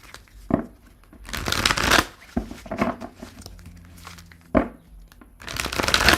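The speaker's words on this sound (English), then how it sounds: "You came in right when I was in the middle of shuffling." Tarot cards are shuffled in repeated bursts of riffling and sliding, close and crisp, with brief pauses between each pass and no talking.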